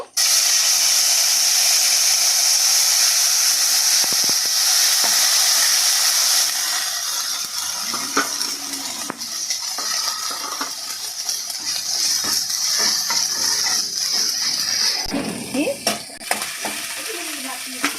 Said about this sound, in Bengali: ফোড়নটা আমার ভাজা হয়ে গেছে, এবার এই জিরে বাটাটা দিয়ে দেব।